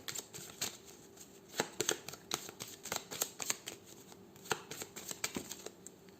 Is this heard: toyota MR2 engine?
no